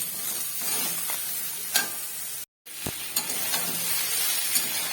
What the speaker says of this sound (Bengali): এখানে শিম, কুমড়ো, বেগুন, মূলো, আলু সব কিছু দিয়েছি। এখন এই সবজিগুলোকেও ভালো করে একটু ভেজে নিতে হবে।